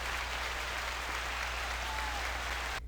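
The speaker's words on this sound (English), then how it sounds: "That was a long applause." Canned applause sound effect played on a podcast, a continuous wash of clapping over a low steady hum that cuts off abruptly near the end.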